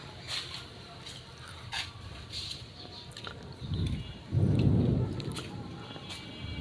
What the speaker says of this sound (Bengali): খুব জোরে ঝড় আসতেছে, মানে বৃষ্টি এবং ঝড় একসাথে